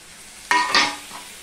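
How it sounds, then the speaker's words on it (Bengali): Chopped tomato goes into a hot pan of spicy small fish with chilli powder, giving a sudden sharp sizzle and a brief stirring scrape that quickly fade back to a quiet background. "এবারে যে টমেটোটা আমি কেটে রেখেছিলাম সেই টমেটোটা আমি দিয়ে দিলাম"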